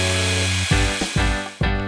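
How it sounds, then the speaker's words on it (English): Wire brush tool on a power drill roughing up a gecko enclosure background, a loud continuous whirring grind that dips and surges several times in under two seconds, close and alone. "it's just it's a wire brush tool"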